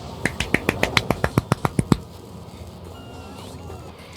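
Rapid finger snaps stand in for applause, a steady run of about a dozen crisp, close snaps that then stop, leaving quiet room tone.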